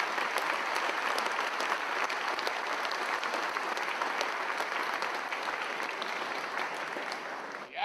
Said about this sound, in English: I'd like you to give a big round of applause for the godfather of the Silverrudder